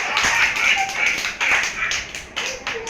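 A group of children clapping together in a classroom, a close, steady run of quick claps in short bursts with brief gaps, alone without talk.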